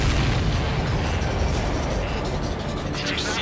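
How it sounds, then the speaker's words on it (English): A loud, rumbling explosion in the air-combat game Ace Combat 7 fills the scene with dense, sustained booming and crackling, under a heavy layer of ongoing game noise. "Did you see that explosion?"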